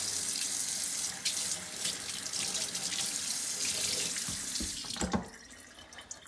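Tap water runs steadily over a fresh aloe vera leaf at a sink, a loud, close hiss with splashing. Near the end the flow shifts and stops with a few brief knocks and drips.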